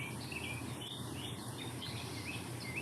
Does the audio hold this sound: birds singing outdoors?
yes